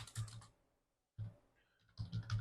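Python code being typed on a computer keyboard: quick clusters of close key clicks in two bursts separated by a brief pause, fairly quiet.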